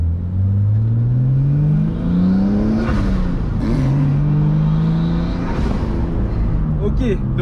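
A car pulls away and accelerates, its engine note climbing through rising pitch sweeps, easing between gear changes and climbing again, loud and close, with people speaking French over parts of it.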